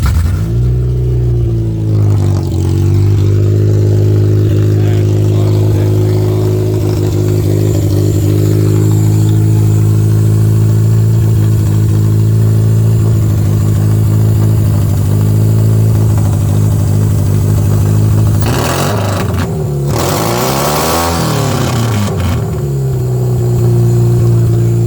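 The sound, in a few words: Toyota Camry engine started and idling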